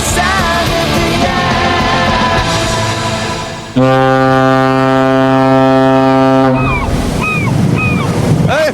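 A ship crossing a fog-shrouded Solent to the Isle of Wight: loud, deep, sustained horn blast over steady engine and water rumble, with music and other sounds before and after it.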